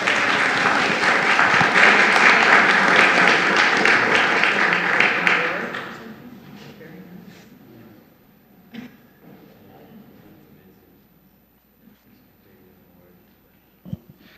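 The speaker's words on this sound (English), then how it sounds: "Let's give them a round of applause" A city council meeting audience gives a round of applause, dense clapping that holds strong for about five seconds and then fades away, leaving a quiet room with a few scattered faint noises and a soft voice.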